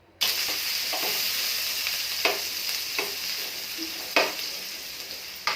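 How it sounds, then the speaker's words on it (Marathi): Onion sautés in oil in a pan, an even, close sizzle that starts abruptly, with several brief scraping stirs spaced through it. "पॅनमध्ये कांदा आपल्याला छान तेलामध्ये परतून घ्यायचं आहे।"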